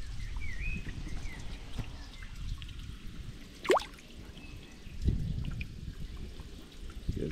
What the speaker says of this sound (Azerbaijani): Müəllimin burada yaxşı şəlaləsi də var.